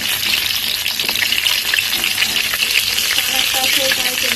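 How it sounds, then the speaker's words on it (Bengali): Pointed gourd (potol) pieces frying in hot oil in a home kitchen, a loud, dense, steady sizzle with crackling throughout, close up and with no voices over it. "তার জন্য পটল দিয়ে দিলাম তেলে।"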